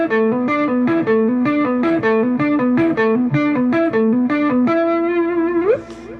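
An electric guitar loops a pentatonic box pattern built on a pedal note, with an effects unit adding light distortion. Fast, even picked notes repeat steadily and loudly, then a held note bends upward at the end, with no talking.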